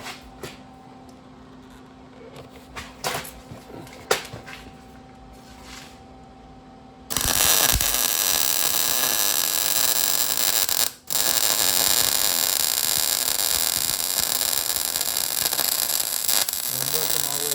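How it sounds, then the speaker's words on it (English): Welding on a rusted Toyota frame during repair, a steady, loud crackling buzz that starts abruptly after quieter shop noise and runs continuously with one brief break. "finish welding. Alright, finish welding that. Welding the bottom up."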